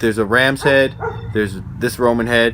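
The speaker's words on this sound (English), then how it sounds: "a dog that behind me wants to tell you that's the neighbor's dog" A neighbour's dog barks in the background while someone talks steadily over it, the barks partly buried beneath his voice.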